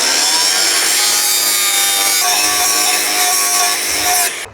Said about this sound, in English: I've got to take that rise off, so I'm going to have to grind into it